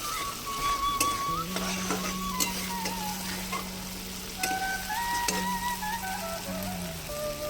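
Spice masala sautéing in oil for a rohu fish curry, cooked village-style, gives a steady close sizzle throughout, with thin tonal whistling lines drifting above it and no talking.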